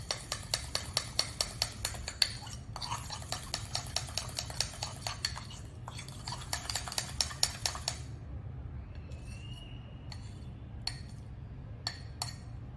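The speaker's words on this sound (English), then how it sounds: "Mix it all up until you get it like a smooth, lump-free batter." A spoon stirs chocolate mug cake batter inside a mug, with rapid, steady clinks and scrapes against the sides for about eight seconds, then a few slower, sparser taps. It is close and clear, with no talking.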